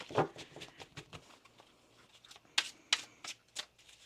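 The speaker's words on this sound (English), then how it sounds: "We'll do one more shuffle here for you" Infinity Oracle tarot cards are shuffled by hand, a run of soft riffling pats and flicks with a few sharper slaps, close and quiet with no voice.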